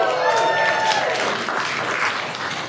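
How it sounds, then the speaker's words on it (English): A comedy club audience cheers and applauds throughout, a dense continuous wash of clapping and whoops at a steady loud level, with a few voices in the crowd. "why y'all cheering like you ain't believing me or some shit?"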